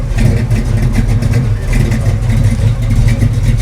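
A 1967 Chevrolet Chevelle SS 396 V8 revs steadily up close, with a deep rumbling note throbbing loudly throughout and no talking over it.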